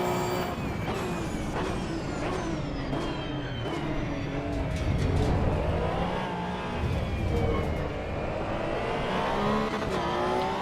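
Race cars roar and rev in the Assetto Corsa Evo sim racing game, with a dense, continuous engine howl rising and falling in pitch as the cars accelerate, loud and steady throughout, with no talking.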